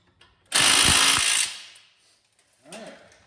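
Ratchet wrench tightening the top strut bolts on a 2011 Ford Mustang front strut assembly, a loud dense burst of clicking about a second long, followed after a pause by a fainter short second bout.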